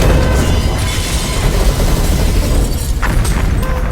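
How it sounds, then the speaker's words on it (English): A violent explosion in a film, a massive sustained roar that fills the whole clip loudly and evenly, with crackling debris and a sharp burst near the three-second mark. "A violent explosion follows"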